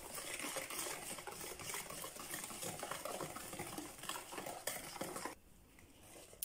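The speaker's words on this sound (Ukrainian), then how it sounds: "розпушувач і помішую вінчиком." A hand whisk stirring pancake batter of flour and baking powder in a bowl, a fast, continuous scraping and swishing that stops abruptly near the end.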